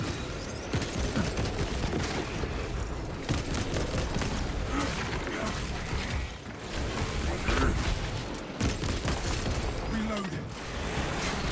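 Dense, continuous gunfire and heavy booming from Space Marine combat against Tyranid swarms, with rapid bursts and explosions layered throughout at steady loudness.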